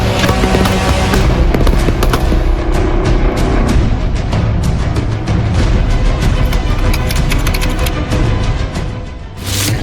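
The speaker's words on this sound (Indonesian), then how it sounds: "prajurit siswa mengaplikasikan keterampilan menembak dengan sikap tiarap, duduk, dan berdiri dengan teknik yang benar." Soldier trainees at a TNI AD basic training range firing rifles from prone, sitting and standing positions, a loud, dense barrage of overlapping gunshots with no pause and no voices.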